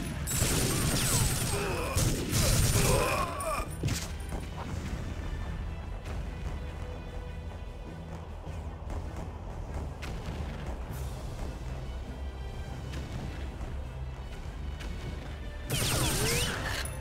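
Gunfire and explosions in the 2005 shooter TimeSplitters: Future Perfect, with heavy loud blasts at the start and again near the end and a steady rumbling battle din between.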